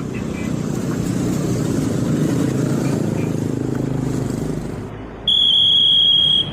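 A motorcycle engine runs close by in a roadside traffic stop, a steady broadband drone that eases slightly before cutting off abruptly, replaced by sustained electronic tones.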